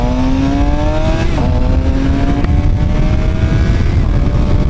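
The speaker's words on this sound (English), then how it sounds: "Love how this bike sounds." A Suzuki GSX-R 750 sport bike engine drones loudly and steadily at close range while riding, its pitch climbing, dropping sharply through a gear change, then rising again.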